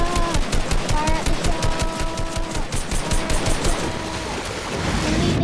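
Rapid automatic gunfire in Fortnite aimed at a shark, dense repeated bursts over ocean wave ambience with a game voice shouting excitedly over the shots.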